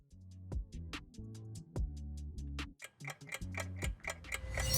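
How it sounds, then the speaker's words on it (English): A grandfather clock ticks steadily with regular heavy beats, then chimes ring out brighter and denser toward the end, loud and close with no talking. "It is C, a grandfather clock chiming."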